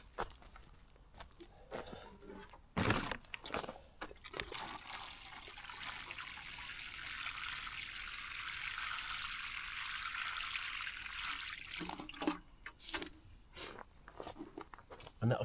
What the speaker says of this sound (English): I'm just about to going to water everything